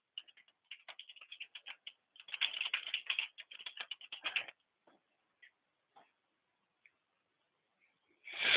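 Fingers tap rapidly on a computer keyboard in a quiet room, with bursts of crisp close keystrokes for a few seconds, then scattered single clicks before a brief louder rustle.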